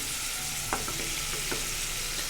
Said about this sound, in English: We're gonna start to let that just saute and cook.